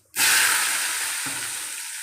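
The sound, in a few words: onions, tomato and mint sautéing in a pan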